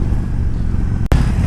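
A 2017 Harley-Davidson Road King motorcycle engine drones loudly and steadily up close with a low rumbling tone, briefly dipping in a quick gear-change gap before resuming.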